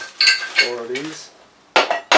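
Metal bolts for a budget motorcycle engine stand clink and jingle as they are unpacked, a few bright separate rattles close by with a quiet gap between them.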